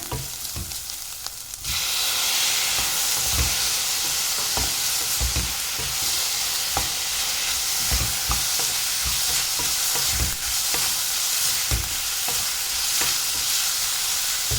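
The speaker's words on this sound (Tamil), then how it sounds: "இது கூடவே இப்போ நான் தக்காளியும் அதில் சேர்த்துக்கிறேன்" Tomatoes sauté with ginger-garlic paste in a hot pan, a loud continuous sizzle jumping up as they go in, with regular scraping stirs throughout.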